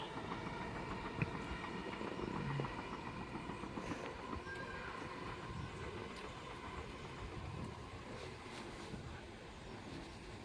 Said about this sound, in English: Mr. Pendolino is ready to pass by off to Euston